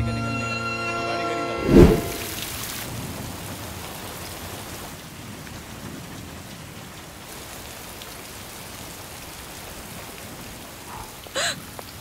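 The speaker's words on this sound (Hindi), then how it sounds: "बारिश।" Steady rain falls throughout, a dense even patter that continues alone after a brief loud knock near the start.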